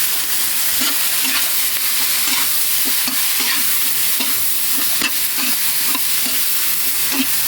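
Shrimp being sautéed with tomato in a pan, with a steady sizzle under a quick rhythm of spatula strokes scraping and tapping the pan. Close and continuous, with no talking.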